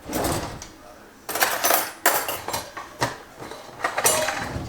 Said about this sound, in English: Sometimes you have to get a knife and break up the chicken.